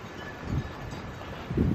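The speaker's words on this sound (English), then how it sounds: "the wind kind of rolls over the camera" Wind buffets a camera microphone outdoors at a lakeside park, a low rumbling roar with gusty surges, strongest in two brief bursts.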